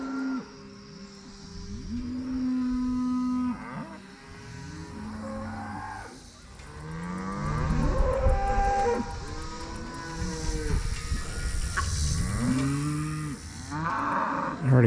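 Calf bawling after being shocked at a cattle working pen, Spanish and Mashona cattle nearby; repeated loud drawn-out moos and bellows, several overlapping, continuing throughout with rising intensity midway.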